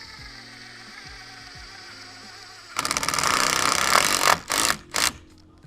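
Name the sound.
driving a 100mm square drive screw into pre-drilled hole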